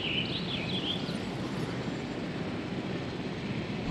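Helicopters fly in Jurassic World Evolution, giving a steady, even whirring drone that holds at constant loudness with no pauses and no talk.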